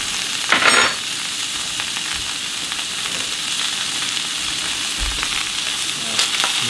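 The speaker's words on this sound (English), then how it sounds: "I'm throwing in a lot of butter" Butter sizzles steadily in a new skillet while basil-crusted rack of lamb is cooked, a broad, continuous frying hiss with a few brief louder crackles near the start and end, close up with no talking.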